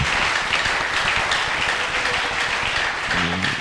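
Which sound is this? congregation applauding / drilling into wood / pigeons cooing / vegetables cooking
congregation applauding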